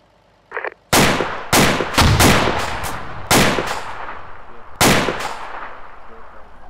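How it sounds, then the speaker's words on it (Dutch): Several sharp, loud explosive blasts with long decaying tails strike in uneven succession, about eight impacts over a few seconds, in a military mission setting, with a short faint sound just before the first. "Ik hoor explosies inslaan."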